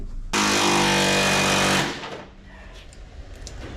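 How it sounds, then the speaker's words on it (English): A ratchet with a swivel socket runs in a steady, buzzing whir for about a second and a half while it works on an old 1995–2004 Toyota Tacoma, then stops and leaves quiet shop background. "Swivel socket made that a little bit easier."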